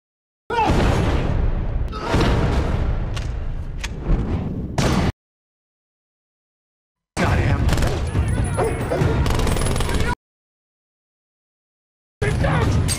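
Loud bursts of gunfire with booms and crashes from a Dark Knight fight scene, played as two long volleys and a third starting at the end, separated by silence.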